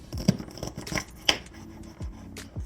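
Green beans are snipped in half with scissors a few at a time, giving several short crisp cuts and clicks spaced irregularly, close and fairly quiet, with no talking.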